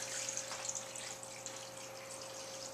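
Seasoning dissolved in water is poured over beef stew, making a soft continuous splashing trickle at low level with a steady faint hum underneath.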